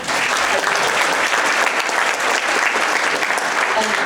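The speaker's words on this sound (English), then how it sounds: "I want just a special round of applause for" Audience applause fills the room at a community reading event, steady and dense with no break, a broad wash of many hands clapping close by for the full few seconds.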